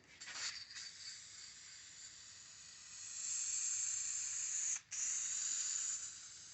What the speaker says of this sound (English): I'm just going to use my Helmsman Semi-Gloss Spray.